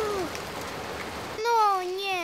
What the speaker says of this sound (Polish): popatrz, co za ulewa